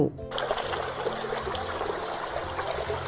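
Water trickles and gurgles steadily in a stream, a continuous bubbling splash with a brief knock at the start, no talking.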